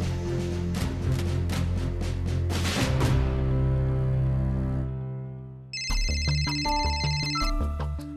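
A phone ringtone plays loud and clear as a repeating electronic melody on a call in a Marathi TV serial, then shifts to bright tonal beeps near the end, with no one speaking.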